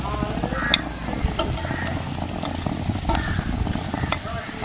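Fish frying in a pan for a tapioca-and-fish dish, a steady dense sizzle with faint clinks of utensils running throughout at close range.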